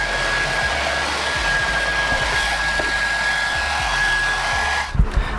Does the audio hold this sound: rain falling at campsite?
no